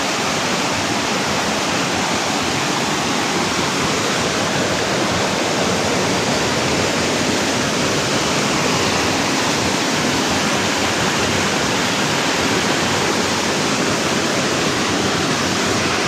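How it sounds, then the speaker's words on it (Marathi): A village waterfall roaring steadily, a dense, unbroken rush of falling water filling the whole clip, loud and close with no voices. "आहे बघा धबधबा आहे तिथं"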